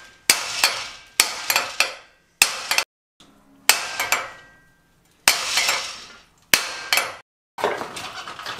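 Sharp metallic hammer blows strike pipework, ringing out in quick bursts of two or three, each strike clanging close with a short ringing decay between pauses.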